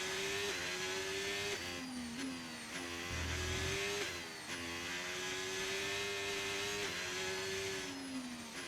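A Formula 1 car in the F1 25 racing game accelerates up to speed, its high engine whine climbing through repeated gear shifts with brief dips between, loud and continuous over the whole stretch.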